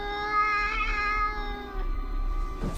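A high, drawn-out meow with harmonic wavering, voiced by a boy imitating a cat, ending in a short breathy sound.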